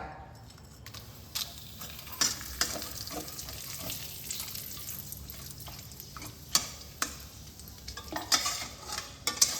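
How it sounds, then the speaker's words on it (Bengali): Cinnamon, cloves, cardamom and bay leaf sputter in leftover fish-frying oil, a soft continuous sizzle dotted with crackles and occasional utensil clinks. "এই মাছ ভাজার তেলেই আমি এই ফোড়নগুলো দিয়ে নেব"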